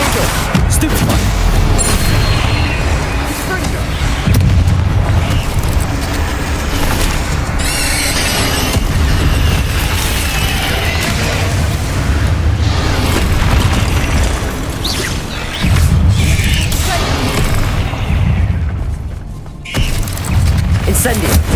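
Spell explosions in Hogwarts Legacy, including fire and blasting curses, a loud sequence of booms, bursts and crackling impacts layered over game effects, with occasional spoken spell names among them.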